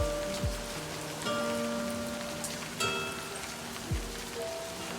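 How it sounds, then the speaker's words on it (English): Steady rain patters across a surface in the video game Livber: Smoke and Mirrors, with tonal game-like ambience and a couple of low swooping whooshes; no voices. "You shouldn't stand in the rain any longer."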